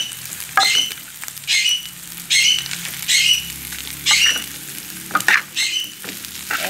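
Chow mein with egg and shrimp being stirred in a frying pan, with repeated bursts of spatula scraping and sizzle in an uneven rhythm, loud and close.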